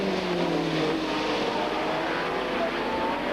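TVR Tuscan race cars in a 1995 Tuscan Challenge race roar past together at speed, a dense engine howl that holds loud and steady with a slight pitch drift.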